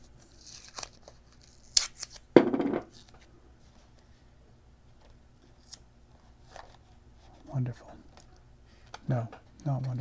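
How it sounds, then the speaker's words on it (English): Tape is snipped with scissors and pressed onto an airbrushed model of the Antonov An-225 Mriya, giving a few crisp cuts and a louder tearing crinkle near the start, with someone talking intermittently. "I'm going to use a little bit of tape to hold that down."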